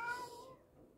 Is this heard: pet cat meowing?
yes